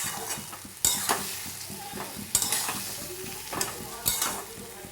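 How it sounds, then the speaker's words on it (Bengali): Poppy seed and white mustard paste being stir-fried in a pan for shukto, a steady close sizzle broken by a few sharp scrapes and knocks of a spatula at irregular intervals, with no talking. "এবার এই পোস্ত আর সাদা সর্ষে বাটাটাকে আমি দিয়ে দেবো। দিয়ে এইভাবে একটু কষিয়ে নেব আমি।"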